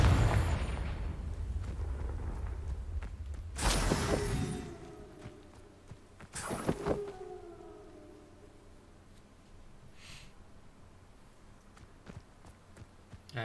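Two booming spell blasts from a fire explosion charm in Hogwarts Legacy, each a sudden loud burst with a ringing tail, about three seconds apart over a low rumbling background.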